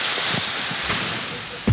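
Steady rain falling in a remote jungle near a basic wooden hut on a prawn farm, a dense even hiss throughout with faint voices in the background and a brief louder thump near the end.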